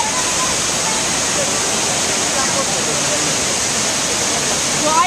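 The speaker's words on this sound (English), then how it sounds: "it is pouring rain" A dense, steady hiss of heavy rain pours continuously, loud and close, with no breaks in the downpour.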